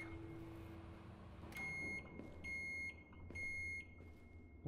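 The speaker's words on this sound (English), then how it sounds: "I put them in the microwave." Microwave oven in a horror cooking video game hums quietly, then gives a short series of high electronic beeps in separate bursts, near and clear with no talking.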